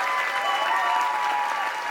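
Sustained, dense applause from a seated audience at a leadership training event aboard a cruise ship, loud and steady throughout with no voices over it.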